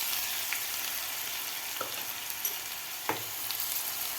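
Garlic, chili and ginger paste sautés in a pan for batata vada, giving a steady close sizzle and hiss with a few sharp spoon-scraping clicks from stirring.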